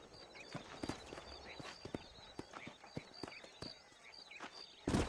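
Horse hooves clip-clop steadily in the Western video game Red Dead Redemption, a rhythmic trot of fairly close, distinct hoof strikes with a louder thud at the end, faint and under light background sound.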